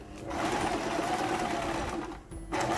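A sewing machine runs steadily while reverse stitching a small purse, a continuous close whir that pauses briefly near the end before starting up again.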